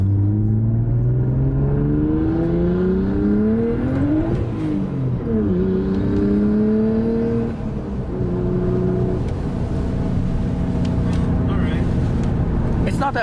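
A straight-piped Nissan R32 Skyline revs with a steady, droning exhaust note that climbs and falls in pitch over a few blips, close and loud, with voices talking over it at times.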